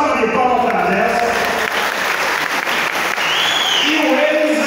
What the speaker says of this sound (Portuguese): Salva de palmas para dessa